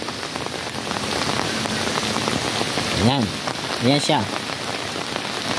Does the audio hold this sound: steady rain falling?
yes